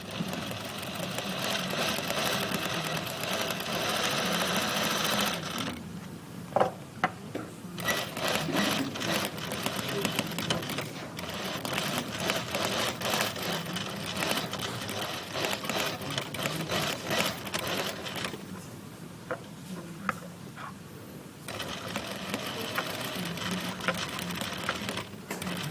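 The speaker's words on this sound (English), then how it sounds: "Then I'll continue to sew." A sewing machine stitches a collar in steady whirring runs, pausing twice briefly for pivots before resuming, close and clear with no talking.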